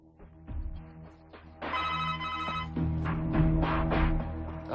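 A telephone rings with an incoming call: a repeated electronic ringtone that swells louder after the first second and continues steadily in an indoor scene, with no talk over it.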